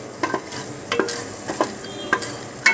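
Popcorn is stirred with black salt in a pan, the spoon making loud, close scraping strokes roughly every half second over a faint sizzle.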